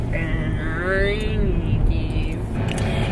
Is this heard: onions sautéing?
no